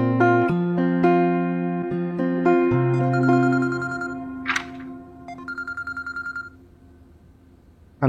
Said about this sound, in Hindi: मैं कमाल को फोन करके बुलाती हूँ